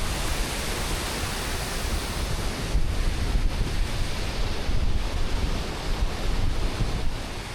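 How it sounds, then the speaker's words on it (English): Torrent of water rushing down a hillside in the Lake District, a steady, dense roar that is loud and close and runs unbroken, with some wind buffeting the microphone and nobody speaking. "There's an absolute torrent of water coming down here."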